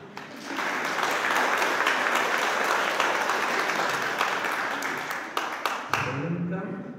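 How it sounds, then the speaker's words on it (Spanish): Wedding guests break into loud, sustained applause during the ceremony, a dense wash of clapping that holds steady for several seconds and then cuts off abruptly, leaving a low murmur of voices. "Pues le damos un fuerte aplauso"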